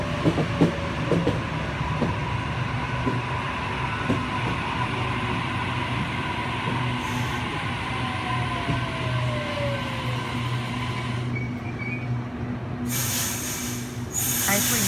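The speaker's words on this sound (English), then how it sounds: "We have Waratah approaching platform number 1." Sydney Waratah electric train set A3 at a suburban platform at night, a steady loud rumble and whine of the train running alongside, with a faint squeal partway and a hissing burst near the end.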